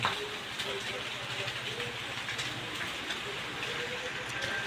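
Rain falls steadily on a green grassy pasture in Australia where cows graze, a continuous close hiss of drops with faint tonal hums in the background and no clear talk.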